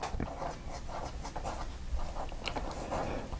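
Esterbrook fountain pen nib writing in Noodler's black ink, a soft, steady scratching of strokes close up, with brief louder scrapes near the end.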